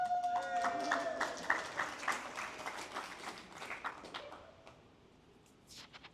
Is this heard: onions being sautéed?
no